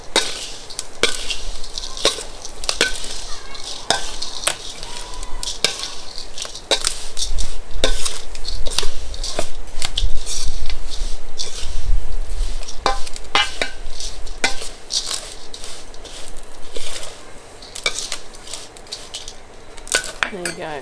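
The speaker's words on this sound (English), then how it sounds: "I'm just going to stir this all up for the moment" Dry sourdough granola ingredients stirred in a bowl with a spoon, giving repeated close scraping and clinking strokes against the bowl in an irregular rhythm.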